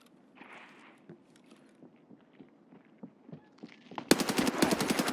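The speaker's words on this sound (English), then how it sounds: "First shot to my left." Gunfire in the video game Escape From Tarkov: quiet footsteps and shuffling give way near the end to a loud, rapid automatic burst of close shots in steady succession.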